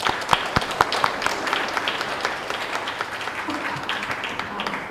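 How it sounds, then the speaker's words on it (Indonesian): Applause for Oma Handoyo during a Sunday Advent church service at GKI Banjarnegara, a congregation clapping steadily for about five seconds, moderately loud with a few sharper claps near the start. "Kita beri aplaus untuk Oma Handoyo."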